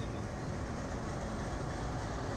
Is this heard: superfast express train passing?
yes